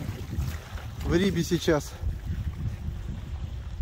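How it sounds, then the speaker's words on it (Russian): Wind gusts buffet the microphone beside a Solar-470 jet-drive RIB, a boat built from HDPE and PVC, out on open water. A steady low rumble of wind runs throughout, and a voice speaks briefly over it near the middle. "Ветер дует, не знаю, будет слышно что-то или не будет."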